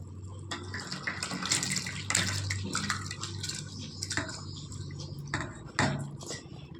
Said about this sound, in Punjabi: ਮੂੰਗ ਦਾਲ ਬਿਲਕੁਲ ਇਹ ਨਰਮ ਹੋ ਚੁੱਕੀ ਹੈ ਹੁਣ ਆਪਾਂ ਇਹ ਪਾਣੀ ਦੇ ਵਿੱਚ ਨਾ ਧੋ ਲਾਂਗੇ